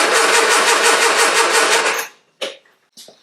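A rebuilt Spitfire-spec engine in a Triumph Herald 13/60 cranks loudly and close for about two seconds with a rapid, rhythmic starter pulse, then cuts off, followed by two brief bursts of sound.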